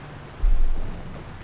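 Gunfire in a Company of Heroes 2 battle between Wehrmacht and US forces: a single low boom bursts out and fades over about a second against quiet background noise.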